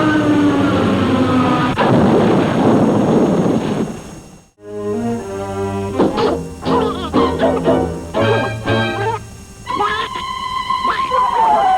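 Cartoon bombs tossed by woodpeckers explode in a loud, dense burst lasting several seconds, then give way to lively orchestral music with sharp accents.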